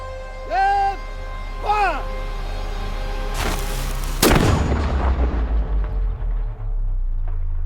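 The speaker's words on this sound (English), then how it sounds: "So it's this cannon, Big Red, which is set to open our festivities" An Elizabethan cannon fires one loud, booming shot that rolls away in a long rumble, after a voice calls out twice just before the blast.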